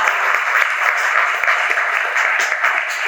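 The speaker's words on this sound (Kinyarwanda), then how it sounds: "Komera Imana amashyi." A congregation claps for God during a Rwandan church sermon, a few seconds of full, steady crowd clapping, close and bright, with a rhythmic pulse running through it.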